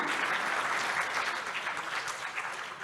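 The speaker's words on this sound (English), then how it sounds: "a big round of applause for Mr. Qureshi" Audience applause at a public debate, a dense, sustained wash of many hands clapping together, steady and fairly close for nearly three seconds with no talking over it.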